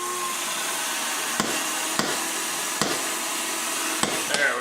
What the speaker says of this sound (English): Now we're drilling or making threads through this glass reinforced nylon.